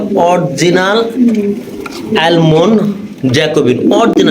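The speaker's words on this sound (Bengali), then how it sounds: "এখানে রয়েছে একজোড়া লাহোরি কবুতর দেখতে পাচ্ছেন" A pair of Lahori pigeons coo in low, throaty rolling calls, close by, mixed in with nearby talking.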